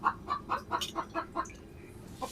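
A chicken clucks nearby in a rural setting, a series of about eight rhythmic, evenly spaced clucks followed by a quieter pause and one more soft cluck.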